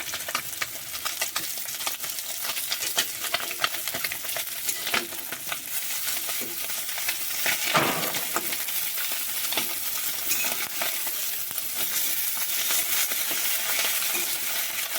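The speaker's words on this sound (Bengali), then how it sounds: "এখানে মাছ ভাজা হচ্ছে" Bata fish frying in oil in a pan, a steady broad sizzle with crackling spatters running throughout, with a brief swell of stirring or movement midway.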